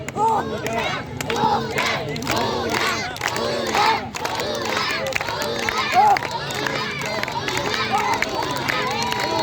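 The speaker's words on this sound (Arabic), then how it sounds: "وكل زمايله طبعا بيشجعوه" Karate teammates shout and cheer loudly throughout a kata performance, an energetic crowd of overlapping yells and battle cries with a few sharper peaks.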